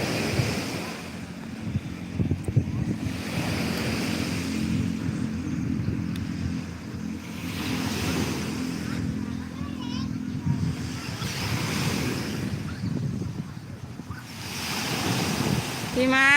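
Cool wind and waves roll steadily at Saeng Chan beach, a continuous broad surf wash with gusty wind buffeting the microphone, and faint voices murmuring underneath.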